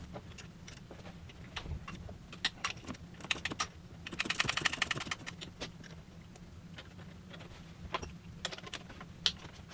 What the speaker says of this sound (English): Make sure you use a ratcheting wrench.